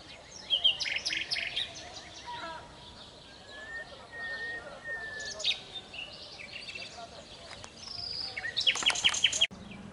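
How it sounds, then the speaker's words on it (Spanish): Small birds chirp and tweet repeatedly in high, bright bursts, with faint background voices and outdoor ambience. "mira cómo se escuchan los pajaritos"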